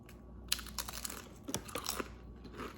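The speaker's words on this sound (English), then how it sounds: "I'm just gonna eat it with some tortilla chips" Tortilla chips eaten with chili or tortilla soup, a few close crisp crunches and chewing sounds in a quiet room.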